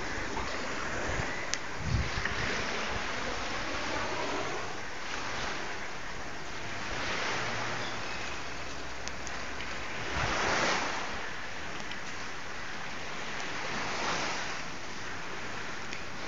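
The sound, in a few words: sea waves breaking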